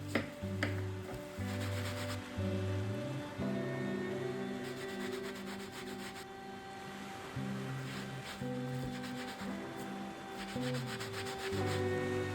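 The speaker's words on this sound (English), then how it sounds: "Now take a regular sponge, soak it well and apply the solution evenly over the visor." A soaked regular sponge spreads stiffening solution over a crocheted raffia visor, making soft, repeated rubbing and scraping strokes in an uneven rhythm, close but quiet, alongside faint tonal background sounds.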